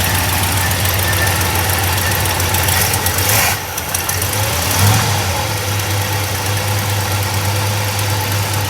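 A 1964 Chevrolet Malibu SS engine idles loudly and steadily close by, a deep continuous rumble with a slight dip and small rev change midway, no talking over it.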